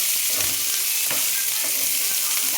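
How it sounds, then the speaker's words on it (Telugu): Onions frying in a pan for a bitter gourd onion curry, a steady close sizzle with faint occasional stirring taps. "ఉల్లిపాయ బాగా వేగక్కర్లేదండి. కొంచెం పచ్చి వాసన పోయే వరకు వేగితే చాలండి."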